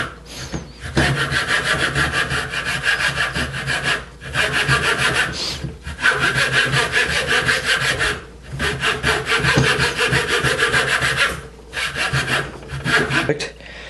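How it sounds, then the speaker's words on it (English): A thin saw blade, such as a coping saw or hacksaw, cuts a small slit in a wooden crankbait lure with rhythmic rasping strokes. The sawing comes in close, loud bursts separated by brief pauses. "taking any thin blade, like a coping saw or a hacksaw, to make a slit, a small slit."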